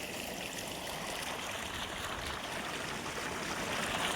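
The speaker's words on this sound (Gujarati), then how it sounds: "જો કેરામાં પાણી હાલ્યું આવે છે." Irrigation water runs steadily into a farm channel after being released with a shovel, a continuous close rushing and trickling wash that holds even throughout, with no talking.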